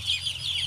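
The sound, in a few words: broiler chickens clucking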